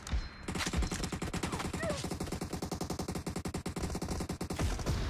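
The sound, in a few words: gunfire in a video game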